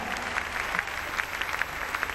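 Dance couples in a professional Latin dance championship final at the Blackpool Dance Festival applaud the orchestra, a soft, continuous patter of scattered clapping heard from a distance in a large ballroom.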